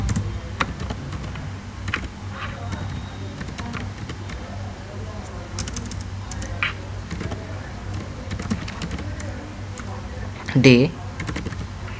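Rapid keystrokes on a computer keyboard while Python code is written, a close stream of irregular clicks running throughout, with someone talking over the typing.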